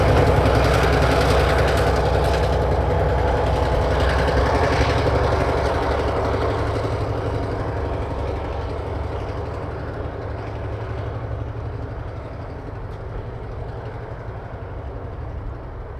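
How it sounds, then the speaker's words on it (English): A 70-year-old EMD 567B diesel switcher, locomotive 1203, throttles up on a short line, its loud, rumbling engine roaring close by before easing slightly as it pulls ahead. "there's no mistaking the classic EMD sound as 1203 throttles ahead to its train on the west side"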